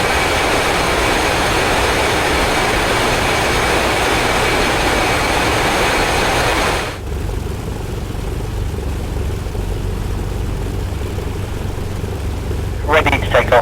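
Jet aircraft engines in DCS World, the combat flight simulator, hold a loud, dense roar while readying for takeoff, then drop abruptly to a lower, steadier rumble halfway through, with a brief clatter near the end.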